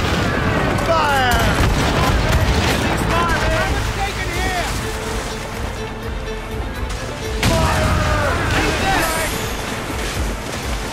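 Ship cannons fire volleys in the naval combat of Assassin's Creed Rogue, a rolling mix of loud booms and gunfire over constant sea and battle noise, with voices shouting and talking throughout.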